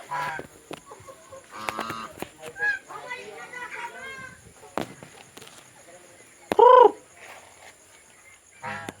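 Rhode Island Red chickens cluck in scattered bursts at moderate distance, with people talking intermittently nearby and a louder squawk near the end.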